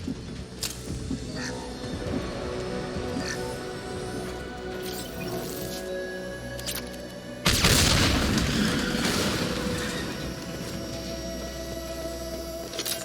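A heavy explosion blows up tanks in Mass Effect 2, a sudden booming blast that rises out of steady game ambience and slowly rumbles away over several seconds.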